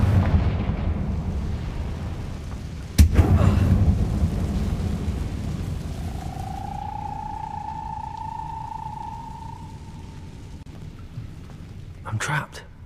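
A Confringo spell goes off in Hogwarts Legacy deep in a goblin mine: one sudden, heavy blast followed by a long rumbling roar that slowly fades, with a faint whistling tone later and another short burst near the end.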